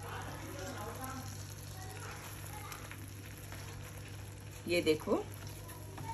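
Jackfruit pieces cooking in masala in a pan over a gas flame give off a faint, steady frying hiss, with a few brief spoken words near the end.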